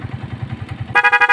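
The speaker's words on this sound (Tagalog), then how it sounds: "paano naman kapag naka loud horn naman siya? So, pataas naman. So, pakinggan natin" A Honda TMX Alpha 125 motorcycle with upgraded wiring sounds a loud horn, a short series of rapid, blaring pulsing honks, close and strong, following a brief stretch of ticking, clattering engine idle.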